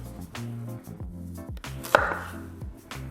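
A knife cuts through roasted beets and carrots on a board, with several soft, close chopping thuds at irregular intervals and one sharper knock near the middle, in a quiet room with no voices.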